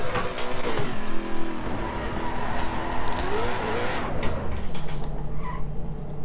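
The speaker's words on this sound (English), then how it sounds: "Even with it off, why does it take so long to accelerate? That's the foot flat to the floor." A race car engine at full throttle in the racing game Assetto Corsa Competizione, loud and close, its pitch climbing steadily and then dropping as if shifting gear before rising again. No voices are heard.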